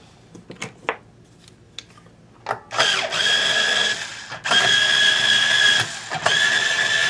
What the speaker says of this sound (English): I'm gonna go ahead and take the truss rod off, the truss rod cover, and I'm gonna snug this truss rod down a little bit.